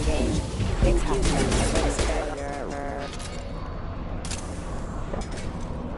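Dense bursts of gunfire and crashing impacts from the video game Mass Effect 2 fill the first couple of seconds loudly, then settle into lower, sparser battle noise.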